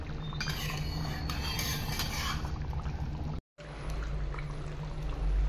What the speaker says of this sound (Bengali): কাঁচা সর্ষের তেল দিয়ে দিলাম।